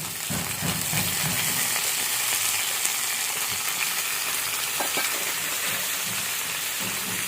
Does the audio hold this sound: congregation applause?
no